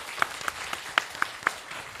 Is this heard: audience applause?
yes